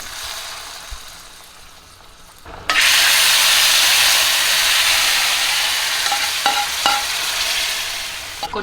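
Goat leg curry simmers in a pot, a loud steady hiss and sizzle beginning abruptly with a few clicks of a stirring utensil, and no voices over it.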